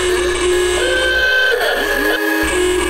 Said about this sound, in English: the ABC here in Australia made sure their US election coverage also included loud car noises.